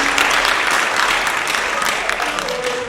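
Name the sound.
audience applause for football players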